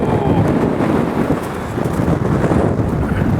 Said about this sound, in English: Wow, that's windy